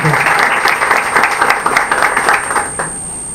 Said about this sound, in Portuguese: Eles merecem aplausos.